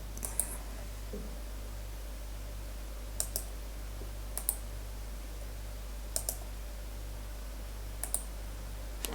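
A computer mouse clicks while someone works in Unreal Engine 4, several sharp single and double clicks spaced across a quiet room over a low steady electrical hum.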